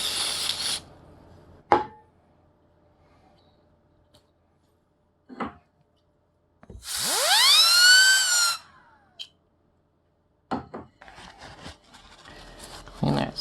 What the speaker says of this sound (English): So let's try once more with the contact cleaner.